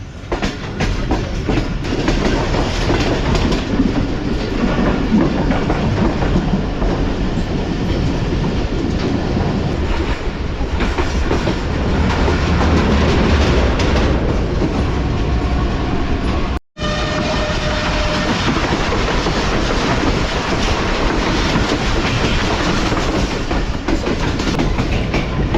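Karachi Express train rolling onto the Kotri bridge over the Indus, with a loud, continuous roar of wheels and rattling coaches heard from inside and a steady clickety-clack throughout.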